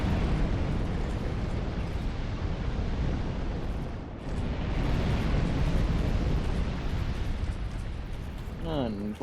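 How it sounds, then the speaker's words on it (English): Enemies blowing apart in Dark Souls 2, a loud, continuous roaring blast that fills the whole stretch, dipping briefly midway before surging again, with a short rising squeal at the end. "Love to see enemies just explode."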